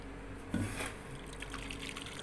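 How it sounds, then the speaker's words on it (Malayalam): Watermelon pudding mixture is poured into a glass bowl, a brief soft liquid trickle and splash, faint and close, with no talking. "ഞാനിപ്പോൾ ഒരു ഗ്ലാസിൻ്റെ ബൗളിലാണ് ഒഴിക്കുന്നത്."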